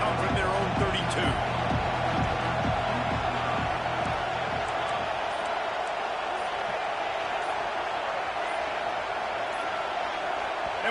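A stadium crowd at a college football game, Georgia vs Texas, roars loudly and steadily during a drive, a dense continuous wash of noise with rhythmic thumping in the first half that fades into sustained roar.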